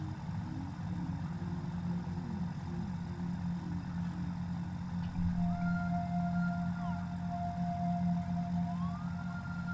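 A tractor in the game Satisfactory driving along, a steady low engine drone with a constant hum throughout, joined midway by higher whining mechanical tones, moderately loud and without talk.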